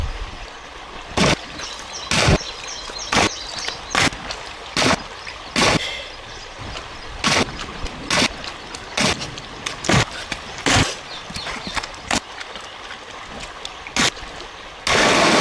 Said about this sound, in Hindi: तो अब मैं नहा लेता हूँ ठंडे ठंडे पानी से,